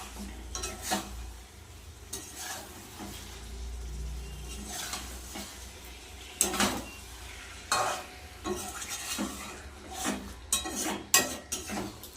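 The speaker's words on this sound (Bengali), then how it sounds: "কেটে ধুয়ে রাখা লোটে মাছটা খুব বেশি নাড়াবো না আলতোভাবে নাড়িয়ে ঢাকা দিয়ে রেখে দেবো" Bombay duck fish curry is gently stirred in a pan, with soft intermittent scrapes and clinks of a utensil against metal over a low, quiet simmering sizzle.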